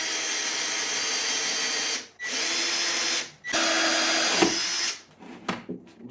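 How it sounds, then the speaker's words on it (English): A power drill whines loudly in three bursts separated by brief pauses while drilling a hole in a lid, then winds down with a few short spurts. "And I'm going to drill a hole in the top here."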